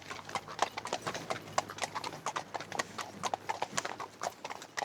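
A ridden horse walks along on a long ride through the Colmar area, its hooves clip-clopping in a quick, steady, overlapping rhythm, close and fairly faint, with no voices over it.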